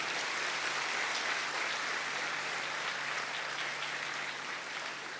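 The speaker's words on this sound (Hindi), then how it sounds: "अगर देख के पुलिस की ताली बजा दें।" A crowd at a religious gathering applauds the police, a continuous even wash of clapping heard at moderate distance, fading slightly toward the end.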